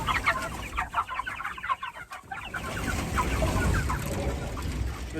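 Chickens cluck steadily around chicken tractors outdoors, several birds close by with overlapping calls through the whole stretch, a brief dip in the middle, no talking.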